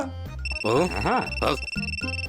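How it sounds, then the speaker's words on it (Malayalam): A phone ringtone in a children's cartoon plays a bright, looping melody close up, with a voice briefly overlapping it. "എന്റെ ഫോണാ അടിക്കുന്നത്"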